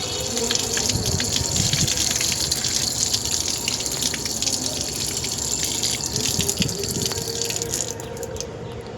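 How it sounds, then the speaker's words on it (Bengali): Guava being washed under a running tap, a steady close gush of water splashing over the fruit with small shifting splashes throughout, no talk heard. "এটা একটু ধুয়ে নেবো, এটা একটু নোংরা লেগে আছে"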